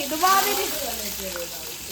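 Mustard seeds tempering in hot oil give a steady, close hiss and sizzle with faint crackle, with a voice in the background that fades after the opening moments.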